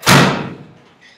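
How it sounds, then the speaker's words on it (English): A clothes dryer door shut with a single firm thud in an apartment laundry, loud and close, then fading quickly. "Place that in there, close the door."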